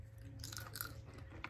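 Vegan coconut-based barbecue-flavoured chips are chewed close to the mic, a soft continuous munching with light crunchy bites and no talking.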